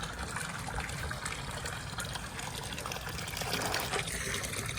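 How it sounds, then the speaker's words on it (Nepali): Turmeric roots are being washed by hand in a basin full of water, with continuous sloshing and splashing close by and a faint background bed, no voices. "यस्तो मजाले धोइदिन्छु होइन। बाटाभरिमा पानी राखेर।"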